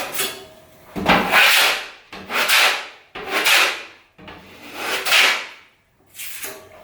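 A big putty knife scrapes flaking, peeling paint off a bathroom ceiling in five or six separate rasping strokes, each a harsh close scrape followed by a brief pause, loud and rhythmic.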